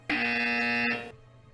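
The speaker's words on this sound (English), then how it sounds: "Already pressed the buzzer." A quiz game buzzer gives one loud, harsh electronic tone lasting about a second, then cuts off sharply into quiet.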